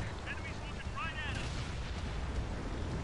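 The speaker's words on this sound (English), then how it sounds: "Oh shit, who just shot me? Oh my god, artillery." Artillery fire in the World of Tanks video game, a heavy booming rumble under an excited voice, with a sustained low roar filling the short moment.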